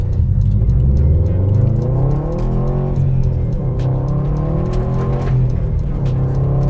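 A Subaru WRX STI sedan drives on slippery icy gravel, its engine rumbling steadily and loudly close by, rising and falling gently in pitch as the throttle changes, with faint tyre and gravel noise beneath.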